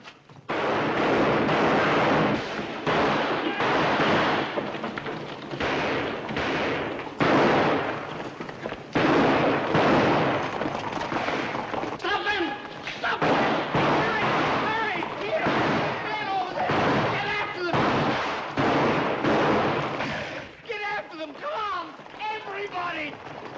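Gunshots are fired down a street in a 1939 western, a rapid run of loud cracks and bursts that continues for over twenty seconds alongside shouting voices.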